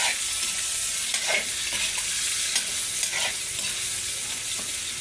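Tofu sautéing in a pan for adobong kangkong, a steady close sizzle with a few stirring scrapes, no voices.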